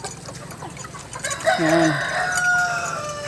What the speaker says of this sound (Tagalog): At yung ibang manok na inaalagaan natin ay may mga sisiw na.